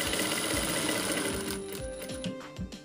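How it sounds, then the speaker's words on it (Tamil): Close, steady rapid clatter of a sewing machine running a straight seam while stitching a fall onto a saree, slowing slightly toward the end. "ஸோ ஸ்ட்ரைட்டாக ஒரு தையல் போட்டுக்கலாம்."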